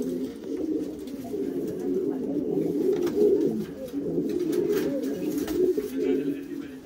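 Pigeons cooing in a loft during the moulting season, a steady low murmur of overlapping coos continuing throughout at moderate, close range.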